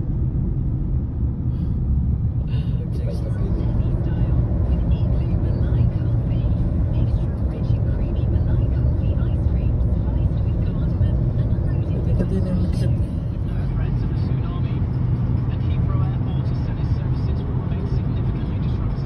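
Heavy road traffic on EDSA crowded with taxis, a constant low engine rumble and idling hum heard from inside a vehicle, with people talking over it.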